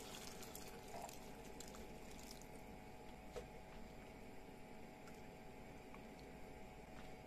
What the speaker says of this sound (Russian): Добавляю воды.